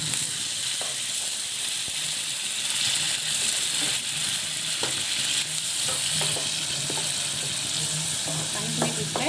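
Masala sizzles in a pan after a little water is added, with a steady hiss and scraping, clattering stirring strokes throughout.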